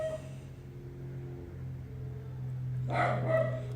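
A dog barks a couple of times near the end, somewhat distant and moderately faint over a steady low electrical hum.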